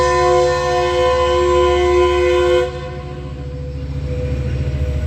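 Metrolink commuter train passing close and loud, its horn sounding a long sustained chord that cuts off, followed by the rumble and rhythmic clatter of the cars rolling by.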